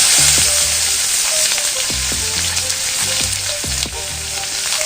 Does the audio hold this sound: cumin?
yes